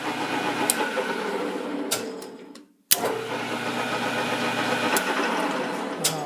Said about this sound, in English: this is a lathe that we were having the problem with